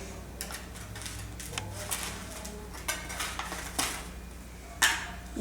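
A knife being handled beside freshly baked, still-hot wheat bread, giving a few faint metallic clinks and scrapes like cutlery against a dish, spaced irregularly over a low kitchen hum with no talk.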